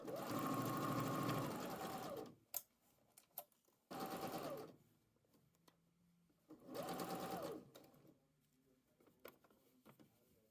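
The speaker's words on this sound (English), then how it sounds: "I started sewing at the center back and sewed from there to the shoulder dot." A sewing machine stitches a bodice seam from center back toward the shoulder in three loud bursts of rapid whirring, separated by pauses filled with faint clicks and handling noises.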